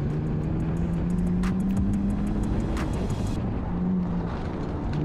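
A BMW E46 runs an autocross course with a steady engine drone heard from inside the car. Wind buffets the microphone, with a few brief crisp ticks and clatters over the constant rumble.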